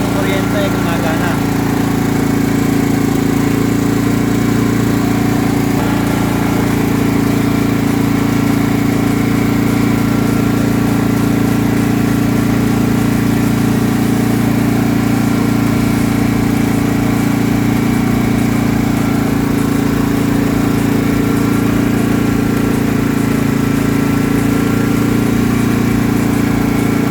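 A Power House gasoline inverter generator runs steadily throughout, a loud, constant engine drone with a strong low hum and no pauses, close to the listener.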